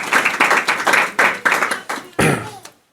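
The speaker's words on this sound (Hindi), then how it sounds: "आप प्रभु की महिमा के लिए ताली बजा सकते हैं।" A church congregation at a Sunday meeting claps hands in a quick, irregular run of loud, close claps lasting a few seconds, then stops abruptly.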